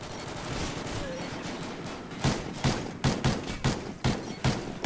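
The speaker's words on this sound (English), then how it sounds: "None of those shots even hit him" Rapid bursts of video game gunfire, a string of sharp, evenly spaced shots cracking out over a steady background of in-game noise, with no talking.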